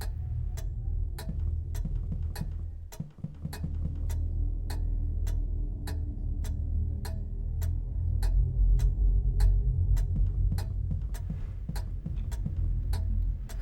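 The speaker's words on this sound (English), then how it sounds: "The alarm clock is your best friend." Steady, evenly spaced ticking of an alarm clock in the Hello Neighbor video game, clear and regular over a low rumbling ambient background, with no speech.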